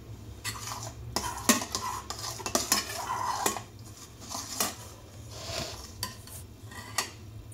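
A utensil stirs instant yeast, baking powder and salt into 220 grams of white flour for savoury biscuits, giving a busy run of scraping strokes and sharp clinks against the bowl, close and continuous.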